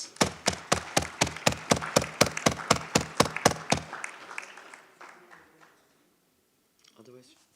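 Applause in a parliamentary assembly: a rapid, regular run of loud claps close by, about a dozen sharp hits that taper off into scattered clapping and room noise, followed by brief speech.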